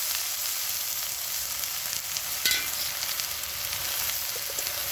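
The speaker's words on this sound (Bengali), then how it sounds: "এবার বেগুনগুলো ছেড়ে দিচ্ছি।" Eggplant pieces fry in fish oil for a Bengali tel jhal, giving a steady, dense sizzle throughout with a brief louder burst of spattering midway. No one speaks.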